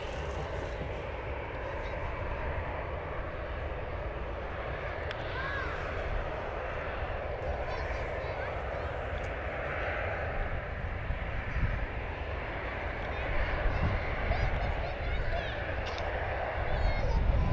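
A small Embraer jet arriving at London Luton Airport produces a steady, distant jet engine rumble and whine that grows slightly louder toward the end, with a person talking over it.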